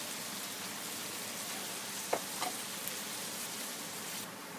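Onions lightly browning in a pan for restaurant-style chicken korma give a steady, even sizzle throughout, with a couple of faint clicks near the middle and no voices.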